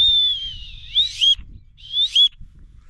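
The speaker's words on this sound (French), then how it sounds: "on a un sifflet avec une boussole" A small plastic survival whistle, combined with a compass and thermometer, gives two shrill, high blasts, the second shorter, each ending in a warbling trill, loud and close, with low handling rumble between them.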